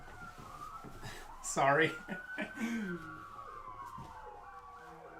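Police car siren, likely from a large SUV cruiser, wailing in a rising and falling sweep from a distance and drawing closer over several seconds, with a person talking briefly over it.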